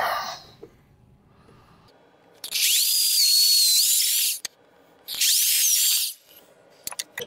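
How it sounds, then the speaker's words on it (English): A power drill whines loudly in two bursts, pitch shifting as it bores into birdhouse wood, separated by quiet pauses with faint handling noises. "Bigger drill."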